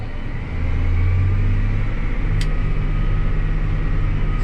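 Tractor engine throttled up with the PTO driving a rock crusher, creeping at 0.6 miles an hour; a loud, steady, low drone that rises in pitch as the throttle opens, then holds constant with a brief click near the middle.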